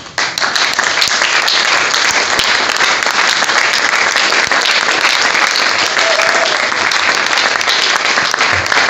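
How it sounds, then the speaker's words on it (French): A standing audience at an awards ceremony applauds loudly for the pioneers of the profession, producing a dense, sustained roar of clapping that stays full and even throughout. "je nous demande tous de nous mettre debout et d'applaudir très fort tout ce que nous pouvons considérer comme étant les pionniers de ce métier"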